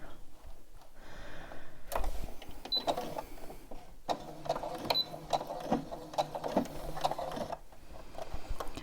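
A sewing machine stitches the head of a memory bear together in short mechanical runs, whirring and clattering in bursts with brief pauses between, close up, with no one speaking.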